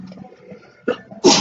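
A single sharp sneeze bursts out loudly near the end, just after a quieter sneezy intake, during a tabletop card game of Sentinels of the Multiverse, with murmuring room sound before it.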